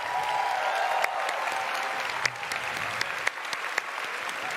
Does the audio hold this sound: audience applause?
yes